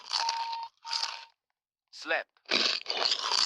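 Crunchy food is bitten and chewed close to the mic in short loud bursts of crisp crackling, separated by brief silences, with a voice overlapping.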